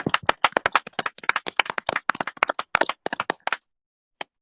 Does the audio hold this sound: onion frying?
no